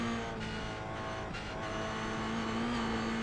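GR Cup race cars in iRacing at Motorsport Arena Oschersleben, a sustained engine drone with a steady pitched whine, alone and fairly faint, holding steady across the whole stretch.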